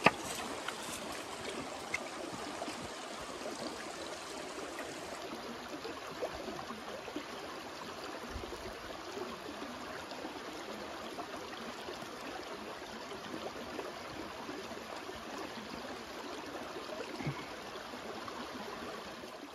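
Creek water flowing and trickling steadily in a wooded area while someone wades through the stream, a continuous close wash of running water with no talk.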